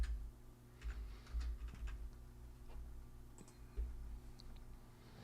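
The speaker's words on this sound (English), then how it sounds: "I can actually even hear me typing." Keyboard typing picked up by a sensitive microphone during a live stock-market show, a quiet scatter of small clicks and taps over a steady low hum, with no talking.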